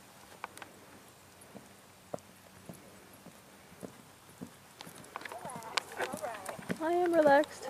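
Hooves clip-clop on hard ground at an uneven walking pace, with voices talking over them near the end.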